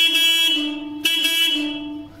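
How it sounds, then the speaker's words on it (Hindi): A big aftermarket horn newly wired onto a Swaraj 724 tractor sounds in two loud, steady, brassy blasts close by, the second following a short break. "बिल्कुल लगा दिया है हॉर्न"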